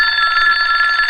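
A telephone rings with a loud, steady trilling bell tone that carries on without a break, close by and alone.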